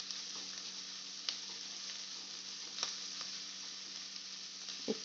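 Soya fried rice vegetables, including beans, frying in a pan: a continuous soft sizzle with a few faint clicks of stirring, steady throughout and without voices.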